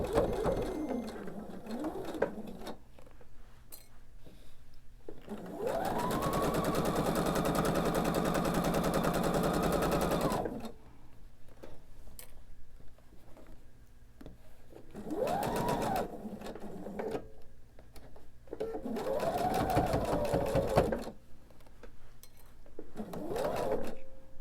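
A sewing machine stitches rows of fabric triangles together in several bursts, a steady fast mechanical whir with a rapid rhythmic needle clatter that starts and stops between short pauses.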